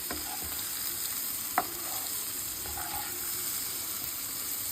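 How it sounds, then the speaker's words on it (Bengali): Rice fries with cashews and raisins for Bengali-style basanti pulao while being stirred. A steady soft sizzle runs throughout, with an occasional light scrape or clink of the spoon. "তো এটাকে আমরা এখন 3 মিনিট মতো চালটাকে কাজু কিশমিশ সব কিছুর সঙ্গে 3 মিনিট মতো ভেজে নেব।"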